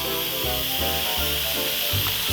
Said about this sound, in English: So now we're releasing all the steam.